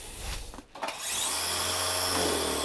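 A DeWALT DCMST561N cordless brushless string trimmer is handled with a few knocks, then switched on. Its motor spins up within a second into a steady, loud, high whine that holds to the end.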